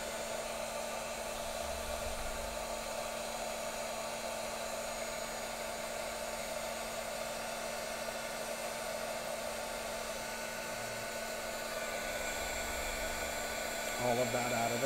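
A heat tool blowing hot air onto stamping foam: a continuous steady whirring hiss with a constant motor hum, holding even throughout, with a few faint low bumps.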